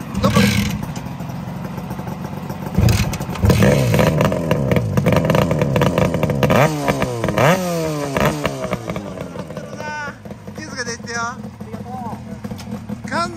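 A 1978 Suzuki RG250E two-stroke motorcycle engine with expansion chamber exhaust revs repeatedly nearby, its pitch sweeping up and down with each throttle blip, while people talk over the idling.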